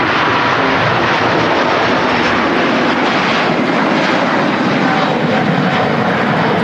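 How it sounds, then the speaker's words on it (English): Singapore Airlines Airbus A350 with two Rolls-Royce Trent XWB engines taking off from Manchester Airport, a loud, continuous roar filling the whole span without letup. "here we have two XWB Trents taking off. This is Singapore A350 off to Houston."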